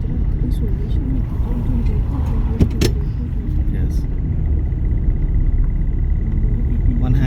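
A car engine runs under acceleration during a driving lesson. It makes a steady, loud rumble from inside the cabin, and voices talk over it.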